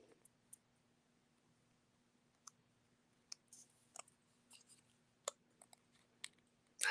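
Sharp craft scissors snip paper while fussy cutting stamped gnome images, giving a string of quiet, close, irregular clicks and crisp cuts against a faint steady hum.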